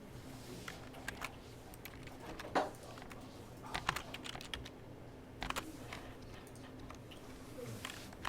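Someone types numbers on a computer keyboard while working through a programming exercise: scattered, irregular key clicks and a few louder taps over a quiet room hum.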